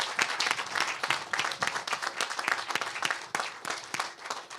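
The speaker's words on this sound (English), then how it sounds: "So I'd like to give a round of applause to all these guys." Audience applause at an event announcing Tata Technologies' move to Detroit's TechTown, dense steady clapping from a crowd filling the room for several seconds without letup.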